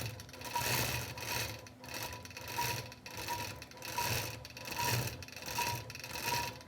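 A sewing machine quilts a fabric postcard, its needle pulsing in a steady rhythmic chatter of roughly one to two bursts per second, close and fairly quiet, with no talking.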